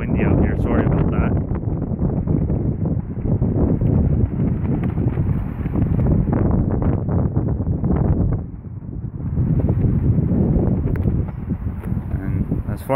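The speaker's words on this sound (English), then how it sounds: "It's pretty windy out here, sorry about that." Heavy, continuous wind buffeting on the microphone, a dense low rumble that eases briefly near the end, with a voice talking underneath.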